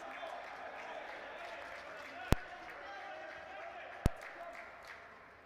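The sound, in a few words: soccer crowd cheering on their feet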